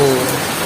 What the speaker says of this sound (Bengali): সেই পরিমাণে বৃষ্টি হচ্ছে।